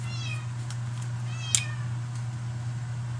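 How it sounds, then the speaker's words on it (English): Several short, upward-bending cat meows in a kitchen, fairly faint over a constant low electrical hum, with one brief sharp click in the middle. "That's the kitty losing her mind."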